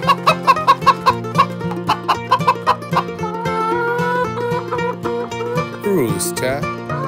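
Chickens cluck in a rapid rhythmic series over a background of farm-themed music, followed by softer clucks and a brief squawk near the end.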